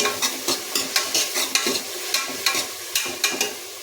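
A sizzling tempering (oggarane) being stirred in a pan, with rhythmic scraping strokes about twice a second over a steady crackle of hot oil, close and clear with no talking.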